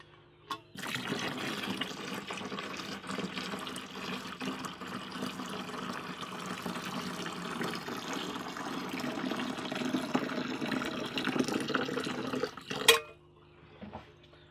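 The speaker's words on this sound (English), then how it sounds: "we'll go ahead and pour the rest of the hot water right on top." Hot water pours steadily into an RV holding tank during a tank treatment, a continuous rushing, gurgling stream lasting over ten seconds before a sharp knock and a quick fade.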